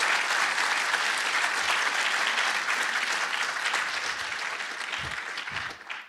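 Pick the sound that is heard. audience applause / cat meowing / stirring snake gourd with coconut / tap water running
audience applause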